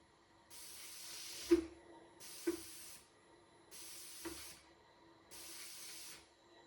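A Graco Ultra XT airless paint sprayer hisses in four even bursts, each about a second long, separated by short pauses with faint clicks at the starts.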